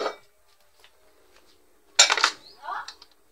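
A metal lid clanks down onto a cooking pot in an outdoor rural kitchen with a wood fire, one sharp near clatter after a brief quiet stretch, with faint voices before it.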